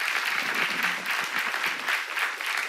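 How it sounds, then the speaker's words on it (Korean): A church congregation applauds during a seminar sermon, a steady, dense clapping that holds at an even level for the whole stretch with no talking over it. "박수를 하세요."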